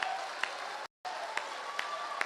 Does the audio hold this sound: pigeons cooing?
no